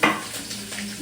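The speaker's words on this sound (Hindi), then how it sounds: "तेल गरम है और में डाला तो मैं सरसों और फूट गए सरसों, मतलब अब डालू मैं यहाँ हरा मिर्ची" Green chillies tossed into hot oil with popping mustard seeds, a brief loud hiss and sizzle that settles into steady frying crackle, close up.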